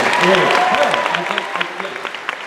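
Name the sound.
convention panel audience applauding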